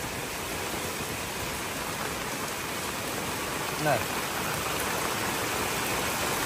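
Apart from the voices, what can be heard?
heavy rain falling, flooding in Battambang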